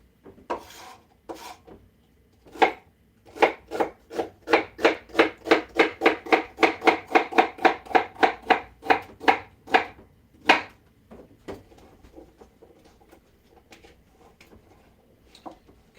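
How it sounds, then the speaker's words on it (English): Rapid knife chops through celery on a cutting board, a steady run of crisp close strikes building into a fast rhythm, then a few scattered cuts trailing off. "I'm chopping that up."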